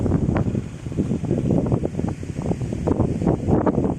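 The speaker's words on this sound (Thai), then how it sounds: "นี่ลมพัดเนี่ย ได้ยินเสียงเปล่า" Strong wind on Koh Chang, Trat, gusts through trees, including rubber trees, in loud, uneven buffeting bursts close to the microphone.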